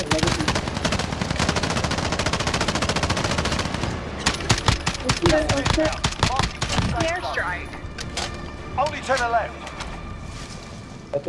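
Rapid machine gun fire rattles in Call of Duty: Modern Warfare, dense continuous bursts that thin into scattered shots, with voices talking over the later part.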